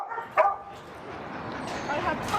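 Dog at an animal shelter gives a single sharp bark, followed by a faint low whimpering, with background room noise of the kennel.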